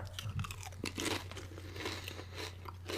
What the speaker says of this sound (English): It's going to be a lot of crunching sound,